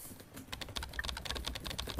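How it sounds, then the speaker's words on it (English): Rapid typing on a computer keyboard, a dense, steady run of light clicking keystrokes at moderate volume with no voices. "I feel so cool typing so fast."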